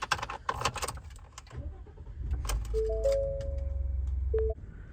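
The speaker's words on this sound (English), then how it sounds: "Sliding into the vehicle to start it, just put the keys in." Keys jangle inside a 2020 Ford F-150 XLT, then the engine cranks and catches into a low idle while a chime sounds a few times over it, all heard close from the cab.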